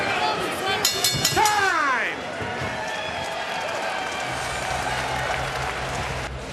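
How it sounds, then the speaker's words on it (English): Sold-out MMA arena crowd at the SAP Center in San Jose, a loud swell of cheering and clapping that peaks early, then settles into a steady hum of chatter with commentators talking over it. "Sold out crowd here at the SAP Center in San Jose for Dynamite."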